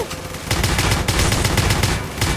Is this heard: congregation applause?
no